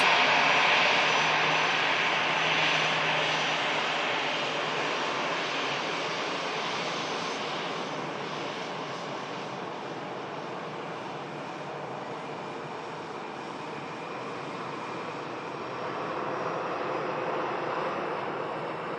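Lufthansa Airbus A321 jet departing for Frankfurt, a broad, steady jet engine roar that eases off slightly and then swells again toward the end, heard alone without talk.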